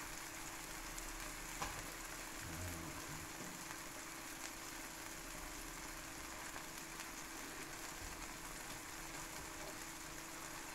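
Leftover pancake batter sizzling in a hot pan as it crisps, a faint, steady crackling hiss running evenly throughout with occasional soft pops and no talk.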